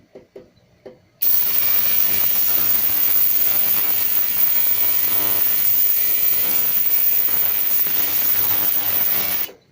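An ultrasonic cleaning bath switching on to clean circuit boards, a harsh loud buzzing drone with a grinding, rattling texture that starts abruptly after a few faint clicks and runs steadily until it stops.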